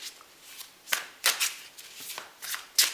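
Tarot cards being shuffled by hand, several crisp riffling bursts of paper flutter at close range, separated by short pauses, with no talking.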